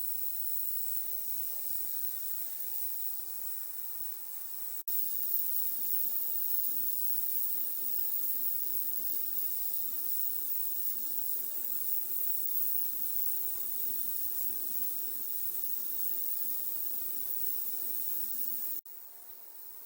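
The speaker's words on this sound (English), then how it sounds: "Hopefully behind me the cleaner isn't too loud." A parts cleaner with its heater running, used while cleaning Honda FL250 parts, gives off a steady, even hiss and wash that stays level throughout, with no voices over it.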